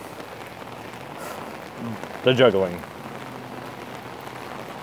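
Steady rain patters on surfaces around an outdoor recording spot, a continuous soft hiss of drops, while someone briefly speaks close to the microphone partway through.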